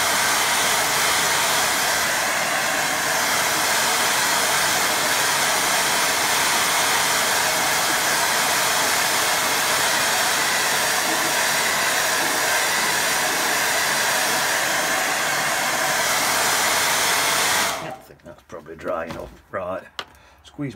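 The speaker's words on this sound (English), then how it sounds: "being gentle with my hairdryer so I don't blow the waxer everywhere" A hair dryer blows steadily and loudly for a long stretch, drying watercolour paint, then switches off, leaving faint handling noises.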